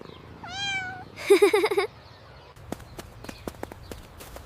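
A small kitten gives a short high meow and then a rapid trill of squeaky cries, followed by light tapping footsteps.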